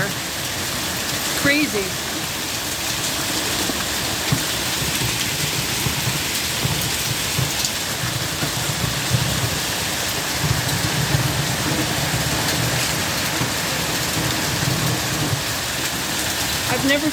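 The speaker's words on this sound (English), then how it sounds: "It's like a torrential downpour." Torrential rain and hail pound a flooding backyard in a steady, loud broadband roar that runs the whole time, with a brief spoken exclamation over it.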